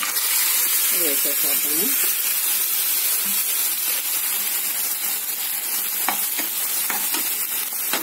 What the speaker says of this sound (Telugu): అన్నీ కూడా వేసేసి ఒకసారి వేగనిద్దామండి